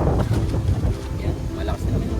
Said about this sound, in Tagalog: malakas na naman yung hangin.